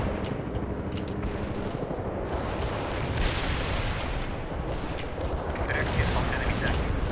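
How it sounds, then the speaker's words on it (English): A continuous artillery barrage in World in Conflict: dense, overlapping booms and crackling blasts roll on without pause at a steady loud level, with faint radio-style voices in the background. "Launching a barrage."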